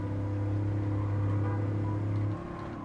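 Toyota I-Force V8 truck engine pulling hard in Gran Turismo 7, a steady, loud low drone held at a constant pitch for over two seconds before easing off.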